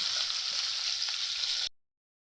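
Green banana pieces coated with turmeric and salt fry in hot oil, giving a steady, even sizzle with a few small pops that stops abruptly.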